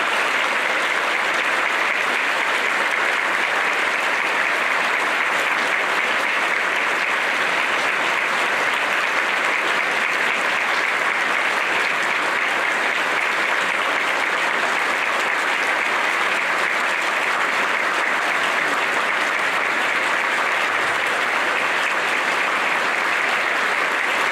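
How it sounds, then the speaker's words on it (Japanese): Audience applause at a Tokyo assembly as Governor Koike exits: a long, sustained, even roar of many hands clapping, continuous and unbroken from start to finish. "拍手でお送りください"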